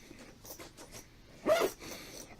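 Dual zipper on a jump starter carry case pulled in short scratchy strokes, ending in one louder, quick zip, close and alone.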